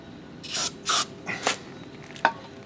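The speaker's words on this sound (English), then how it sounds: "We're just going to use a little shot of brake clean here." A can of brake cleaner sprayed into the engine of a Doodle Bug: four short, close hissing bursts in quick succession, followed by a faint click.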